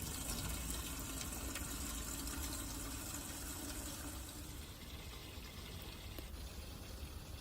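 Water pours and splashes steadily at close range onto newly planted okra, a continuous gushing spray with no talking.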